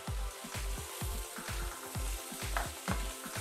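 Zucchini and mixed vegetables sizzle steadily in a hot pan while being stirred, the spatula scraping in a regular rhythm of about two strokes per second over a constant frying hiss, close and loud with no talking.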